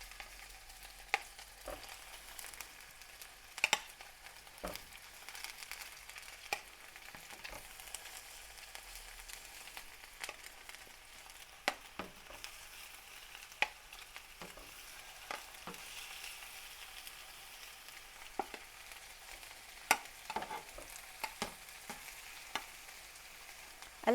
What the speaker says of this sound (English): The pan is nice and warm, you'll hear it sizzle.